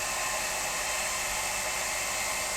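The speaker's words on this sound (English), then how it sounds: "I'm going to hairdryer this as if it's not warm enough in this" A hair dryer blows steadily over white gouache paint on black card, a constant loud, close whooshing roar with no speech.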